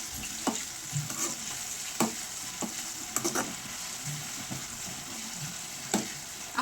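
Ginger frying and being stirred in a pan, a steady sizzle with intermittent scraping clinks of the spoon against the metal, close and moderately loud, no talking.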